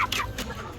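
Brazilian Plucker chickens about two months old, kept in a pen, give a few short clucks up close with low farm-yard background noise.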